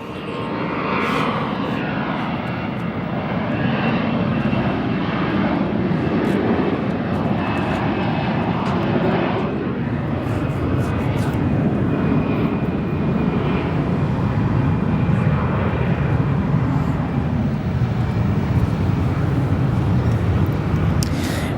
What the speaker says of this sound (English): The Delta departure coming our way soon.